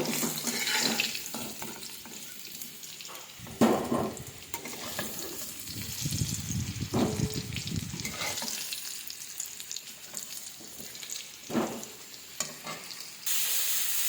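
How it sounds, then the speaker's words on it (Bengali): Hog plum frying in oil with five-spice seeds sizzles steadily in a pan, broken by scraping stirs and a few clatters, with a brief burst of running water partway through. "এইও আমড়াটা ভেজে নিচ্ছি পাঁচ ফোড়নের সঙ্গে।"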